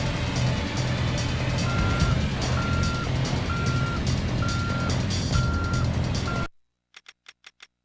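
Forklift reversing beeps in the driving game DRIV3R, a steady run of evenly spaced electronic beeps over loud engine rumble and traffic noise, ending with a few sharp isolated beeps after the engine noise cuts out.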